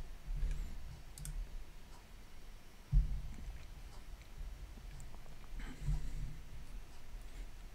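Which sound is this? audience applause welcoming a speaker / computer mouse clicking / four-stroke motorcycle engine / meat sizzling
computer mouse clicking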